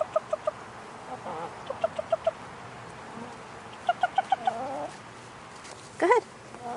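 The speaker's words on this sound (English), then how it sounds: "Here are my chickens." Chickens cluck in short, quick bursts of three or four notes, close by, with a louder squawk near the end.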